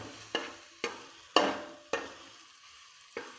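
A spoon stirs a chicken mixture in a hot pan, making six sharp, evenly spaced scraping strokes over a faint background sizzle.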